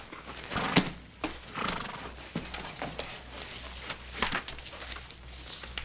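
Horse hooves clip-clopping in an old Western setting, a series of close, irregular thuds and knocks over a low steady hum with no speech.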